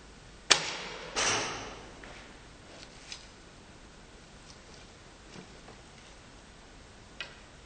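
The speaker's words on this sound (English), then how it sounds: "It needs to have this arrow, and it sounds a lot cooler when you shoot it." A primitive selfbow releases an arrow with a sharp snap, followed by a brief whooshing flight, then a few faint distant ticks and knocks in the quiet outdoor air afterward.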